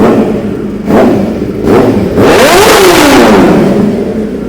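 A 2014 Kawasaki ZX-10R sport bike at a used-bike showroom in Mumbai is revved close up. Two short blips are followed by a long, very loud rev that rises and then falls away.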